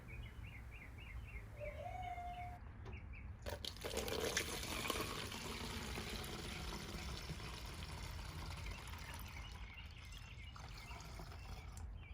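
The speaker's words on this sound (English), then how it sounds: "Pour the mixture on our bottle spray using a funnel." A homemade antibacterial spray mixture poured through a funnel into a spray bottle, a sustained liquid pour running close for several seconds, with birdsong chirping faintly in the background before it starts.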